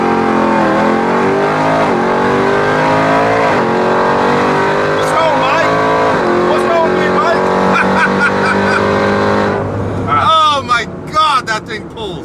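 A 1200hp Jeep Trackhawk launches hard and accelerates, engine and supercharger whine climbing loudly through several rising gear pulls with brief dips at each shift, close and dominant, followed by excited shouting as it winds down.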